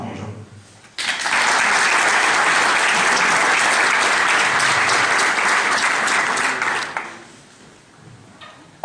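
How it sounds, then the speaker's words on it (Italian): A crowd at a political talk in Curtarolo, Italy applauds loudly and steadily for several seconds, then the clapping fades away, with a brief quiet before and after. "per cui chiedo anche un applauso"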